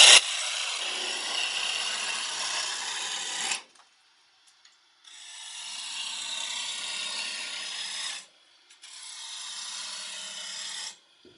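A small wooden mini baseball bat spins on a lathe while a tool cuts it, giving loud, steady scraping in three long bursts separated by short pauses, with no talking.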